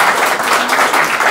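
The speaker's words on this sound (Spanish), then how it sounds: "antes de nada, un aplauso" Audience applause at an academic numismatics lecture: steady, dense clapping from a room full of people, loud and sustained for a moment with no voices on top.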